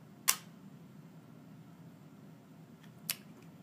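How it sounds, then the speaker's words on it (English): Two sharp mechanical shutter clicks from a Polaroid Land Camera 360 after a battery conversion, one loud near the start and a fainter one about three seconds later, over a steady low hum. "Test the shutter batteries, cover the electronic eye, and listen for two clicks."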